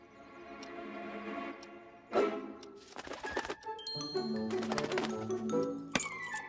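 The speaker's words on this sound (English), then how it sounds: "Looks like the robber's a magpie, guys." A cartoon magpie chirps and coos among bright musical stings and playful sound effects, the bird calls short and layered over a busy animated soundtrack.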